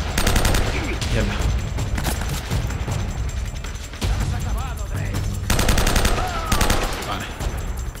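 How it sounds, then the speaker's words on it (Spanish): Rapid bursts of automatic gunfire rattle loudly and almost continuously in the video game Uncharted: Drake's Fortune Remastered, with short pauses between volleys, and a voice is heard faintly beneath the shooting. "Disparos."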